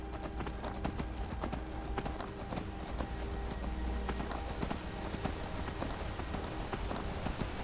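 Horse hooves clip-clop steadily in the video game Skyrim, Special Edition modded, a continuous rhythmic trot at close range over a constant background bed, with no talk over it.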